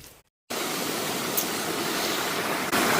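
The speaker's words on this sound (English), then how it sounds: "I can hear the creek running." A creek runs beside a road, a steady broadband rush of flowing water that starts abruptly after a brief silence and stays constant and fairly loud.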